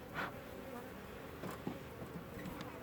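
Killer bees pour out of a large top bar hive, a steady busy buzz of many insects with a few louder passes from bees flying close by.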